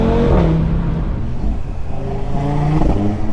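Audi RS3 with an exhaust mod revs loudly up close, the engine note climbing, dropping back, then rising again in a second sharp rev.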